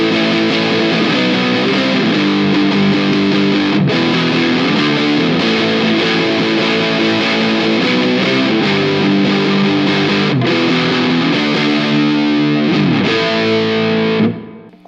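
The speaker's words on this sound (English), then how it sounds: "here is my dry distorted tone with no phaser on" An electric guitar played through a distortion pedal with no phaser gives a loud, dry, saturated tone, strummed chords ringing steadily with a few quick chord changes before cutting off at the end.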